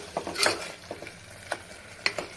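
A spoon stirs and mixes tomato bath in a pan, making several short, close scraping and clinking strokes over a soft sizzle.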